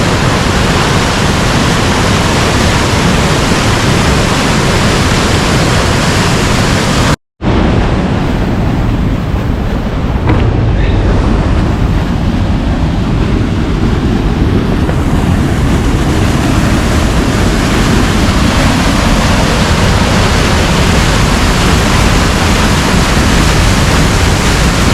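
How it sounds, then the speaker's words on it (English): A strong waterfall in the Gisborne District of New Zealand roars steadily with broadband rushing water and some wind buffeting the microphone, with one brief dropout partway through. "It is flowing quite a bit today though"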